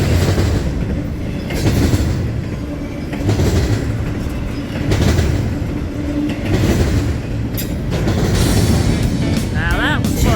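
Union Pacific and CSX freight trains pass close by at night in pouring rain, with a steady loud rumble and rhythmic wheel clatter that swells and eases, and voices over the noise.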